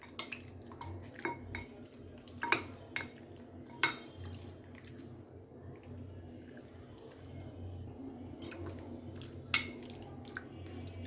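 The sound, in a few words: mixing chicken with chili powder and mustard oil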